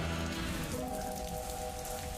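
Steady rain pours and patters on a hard surface, a dense, continuous wash of drops that stays loud and even throughout with no voices.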